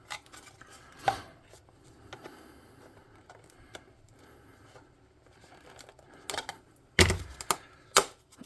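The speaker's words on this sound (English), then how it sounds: "I'm going to come up here with side cutters and try to cut it" Side cutters snipping a plastic Dollar Tree toy stone tower, with sharp isolated clicks and snaps spread out, the loudest cuts clustered near the end.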